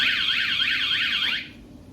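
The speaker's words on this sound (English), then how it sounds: "door tampering instantly sends out a powerful alarm to let thieves know that the van's protected" A VanGuardian van alarm set off by tampering with the side door, a loud warbling electronic tone that sweeps rapidly up and down, then cuts off abruptly after about a second and a half.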